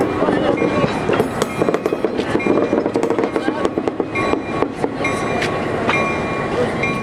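SW9 locomotive number 101 of a lumber railroad works a train of empty cars, with loud rhythmic clanking, clattering couplers and sharp metallic bangs over a rumbling engine, close by, with a voice talking faintly underneath.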